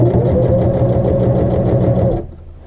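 Sewing machine edge stitching along a drawstring bag, a steady mid-pitched whirring run that holds evenly for about two seconds, then stops abruptly into near silence.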